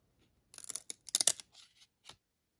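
Stuck 1994 Pacific Crown Collection baseball cards pulled apart: a few quick, faint tearing and scraping rasps close up, followed by silence.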